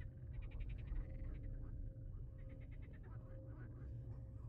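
Frogs croak in the video game Project 13 in quick rattling bursts over a low, steady ambient drone, faint and continuous, with a voice murmuring softly underneath.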